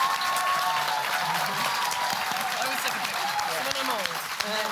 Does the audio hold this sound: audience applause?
yes